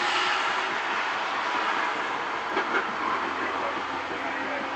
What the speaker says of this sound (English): I'm riding Miran's train cab.